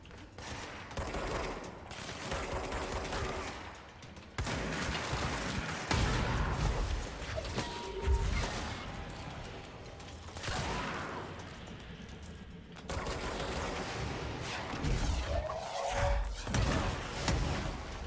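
Dense, rapid gunfire and booming blasts in a loud, chaotic battle in the game Control, with thuds and whooshes layered throughout and brief lulls between bursts.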